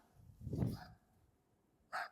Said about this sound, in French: Il nous casse les bonbons là, ce chien.